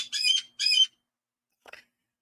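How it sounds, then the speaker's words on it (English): Baby squirrel chirps: two quick, sharp squeaky calls close together, then a softer, briefer chirp after a pause, with nothing else around them. "Oh my God, Paulo, you're stealing my thunder with your chirps"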